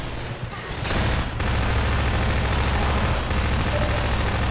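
Pulse rifle gunfire in the video game Half-Life 2: a dense, continuous burst of rapid shots that starts after a brief lead-in and holds loud and steady to the end.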